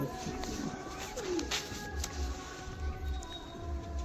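Fulsira line pigeons at a pigeon sale in Dankuni, with soft repeated low cooing pulsing throughout alongside a few other faint bird calls, fairly close.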